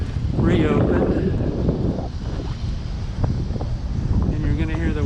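Strong gusting wind buffets the microphone while cycling past a windy Brooklyn street corner near a tall bank building, a loud continuous roar under someone talking throughout.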